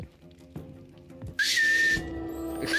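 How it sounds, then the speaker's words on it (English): A whistle sounds in the video game Sker Ritual, a clear sustained tone lasting about half a second after some soft clicks, followed by another brief bright tone. "You can whistle?"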